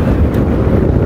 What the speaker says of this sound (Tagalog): Napakalakas kasi ng hangin.